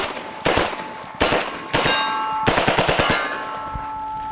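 A UMP45 firing incendiary rounds into a steel target at close range, loud bursts of shots each ending in a ringing metallic clang, with a rapid string of hits near the end.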